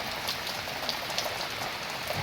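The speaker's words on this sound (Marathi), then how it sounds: "आता सतत पाऊस चालू आहे आणि बराच पाऊस चालू आहे" Steady, dense monsoon rain hisses without pause in a village, with scattered drops pattering a little louder now and then; no voices.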